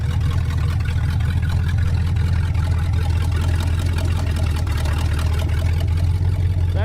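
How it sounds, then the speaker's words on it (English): A junkyard Chrysler car engine runs steadily under load from a pump, a loud continuous low rumble with a droning hum throughout, heard up close with no pauses. "You can hear that pump put a load on the motor."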